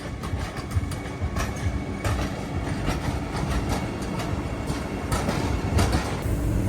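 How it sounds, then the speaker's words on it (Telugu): The Secunderabad–Visakhapatnam Vande Bharat Express, an orange-coloured rake, rushes past close by with a steady rolling roar and quick wheel clatter over rail joints throughout. "Secunderabad Visakhapatnam Vande Bharat express. Orange colour rake."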